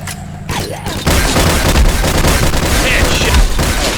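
Gunfire from the first-person shooter game Line of Sight rattles in loud, rapid bursts after a brief quieter start, with dense repeated shots packed closely together and a voice talking over part of the action.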